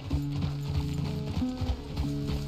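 Horse hooves clip-clopping in Red Dead Redemption 2, a steady rhythmic walk of repeated hoof strikes, close and clear, with creaking tack or mechanical ratcheting underneath and no talk.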